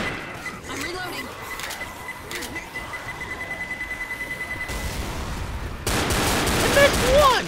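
Gunfire in the video game Left 4 Dead: a steady run of rapid automatic shots in the middle, then a louder, denser burst of noise near the end, with a voice talking at points.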